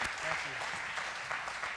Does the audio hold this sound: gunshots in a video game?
no